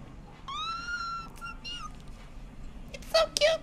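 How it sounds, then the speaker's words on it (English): A cat meows several times in the video game Cyberpunk 2077, with clear drawn-out cries followed by shorter chirps over a low background hum. "Oh, there's a cat."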